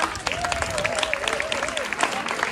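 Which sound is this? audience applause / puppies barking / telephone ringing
audience applause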